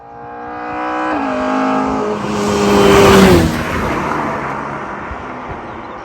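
Modified Morris Minor with a highly strung engine making over 250 bhp, revving hard with a steep rise in pitch, then a gear change and a loud surge of roar that fades, close by.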